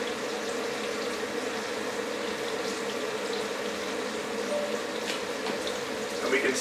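Pre-measured water, about a litre, pours into a cooking pot for pumpkin soup, a continuous splashing flow of even loudness throughout with faint background noise.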